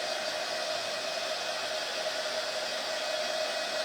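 A hair dryer blows steadily on crafted patterned carrots, a constant loud airy whoosh with a faint whine, unbroken throughout with no voices.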